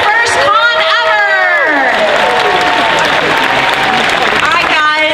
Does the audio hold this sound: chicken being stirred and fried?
no